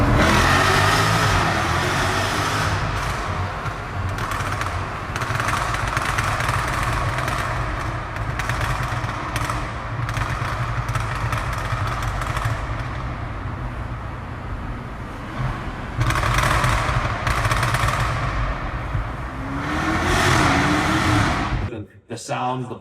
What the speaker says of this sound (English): that exhaust note, that feel behind the wheel